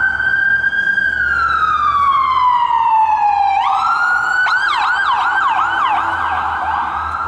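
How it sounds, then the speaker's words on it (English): A loud ambulance siren wails steadily, then shifts into a rapid yelping pattern as it passes close by, with traffic rumble underneath. "Let the ambulance go by."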